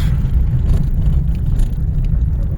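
A car driving in manual mode in second gear gives a steady, fairly loud low engine and road rumble for the whole stretch, with no speech.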